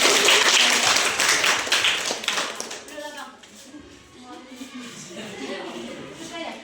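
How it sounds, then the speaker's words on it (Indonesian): A church class group claps together, loud brisk applause at first that thins out and fades as voices start talking over the tail. "Oke, tepuk tangan"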